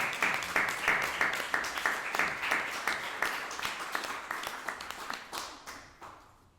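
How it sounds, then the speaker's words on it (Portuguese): Applause at a church conference, a small group clapping in a fairly quick, even rhythm, moderately close and slowly thinning out toward the end. "palmas são louvores para Deus"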